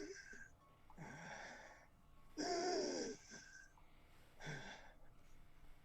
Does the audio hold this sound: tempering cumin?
no